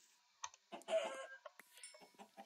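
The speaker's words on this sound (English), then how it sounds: "Come here, chicken!" Chickens in the Minecraft FTB modpack cluck in short, quiet bursts, several spaced clucks close by with quiet gaps between them.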